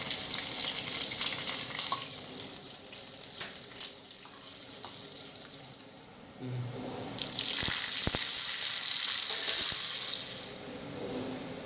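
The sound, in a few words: cashews and raisins frying in ghee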